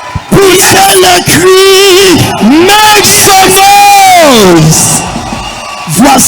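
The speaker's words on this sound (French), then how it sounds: "Poussez le cri, make some noise." A church congregation shouts and cheers loudly, with long rising and falling whoops and yells overlapping in a dense, sustained roar of voices.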